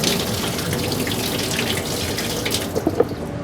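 Cooked potatoes and peppers drained in a kitchen sink, water pouring steadily and loudly with a splashing gush and a few small clinks near the end.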